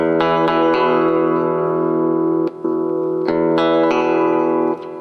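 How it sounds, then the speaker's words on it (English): Fender Roland V-Strat electric guitar set to a Stratocaster tone, plucked in a few loud sustained chords and notes that ring out evenly, each with a sharp pick attack and a short break before the last chords. "it has a Stratocaster tone"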